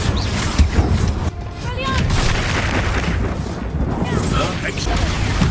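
Confringo fire spell blasts in a Hogwarts Legacy duel, a dense roar of booming explosions and crackling impacts throughout, loud and close, with brief whooshing spell effects over the din.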